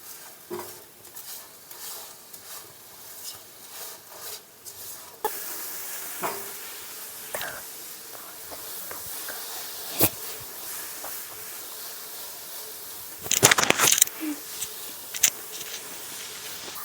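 Onions sautéing in a pan for a chicken dry fry, a steady sizzle with scraping stirs, a brief louder rattle of the utensil near the end, and no voices.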